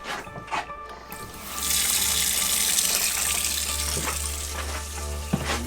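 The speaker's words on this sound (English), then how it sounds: "We should hear the pump starting up." Water starts rushing from a boat's freshwater system as its pump kicks in, a sudden steady hiss of flow with a low pump hum underneath after a few quiet seconds, with no talking.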